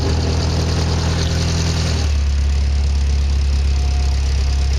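A Triumph TR3A engine runs steadily nearby, a loud, continuous low drone that shifts to a deeper, smoother tone partway through.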